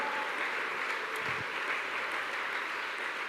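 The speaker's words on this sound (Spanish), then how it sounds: "Por favor, aplaudan esta noche su grandeza, su señorío, su majestad" A church congregation claps steadily during an evening Spanish-language service, a soft, even wash of applause heard from a distance with no voices over it.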